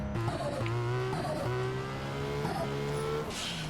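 A high-revving RB26 engine in a Nissan Skyline GT-R R34 in GTA climbs and shifts gears repeatedly, with the pitch rising and dropping in quick succession, steady and fairly loud.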